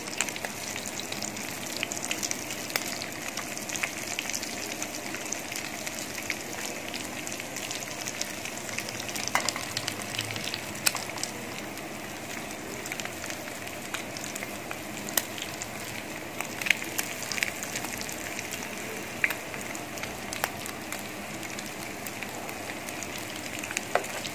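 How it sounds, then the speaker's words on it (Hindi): Mutton chops frying in a pan, giving a steady, close sizzle with crackling pops that run throughout, with no voices present. "जैसे दोनों साइडें इनकी फ्राई हो जाएंगी"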